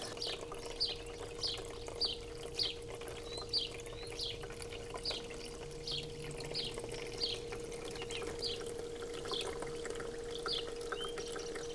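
A Vevor ice maker running its cleaning cycle circulates water inside, with a steady mechanical hum beneath repeated light spritzing splashes that recur at a regular pace, quiet and close.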